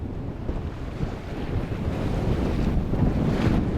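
Wind blows at sea over the small sailing yacht Mingming II in mixed weather on the Norwegian Sea, a loud low rumble of gusts buffeting the microphone along with the wash of waves, building slightly toward the end.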